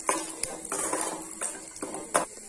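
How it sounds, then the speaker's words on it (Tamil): Metal spoon clinks and scrapes in a pan as broken cashews fry in hot ghee, a few sharp distinct taps spaced across a quiet background of light frying. "இதை போட்டு பொன்னிறமாக பொரிச்சு எடுத்துக்கலாம்."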